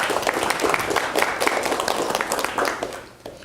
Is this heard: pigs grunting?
no